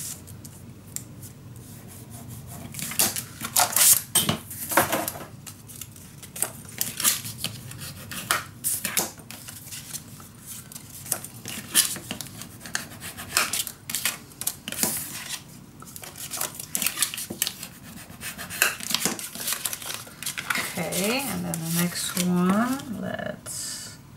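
Paper being scored for a handmade mini album, repeated scraping and rubbing strokes in bursts, close and fairly loud, with a few brief squeaky sweeps near the end.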